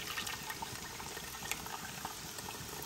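Blended sauce with celery pouring through a strainer in a home kitchen, a soft continuous trickle and splash, close and fairly quiet, with no speech.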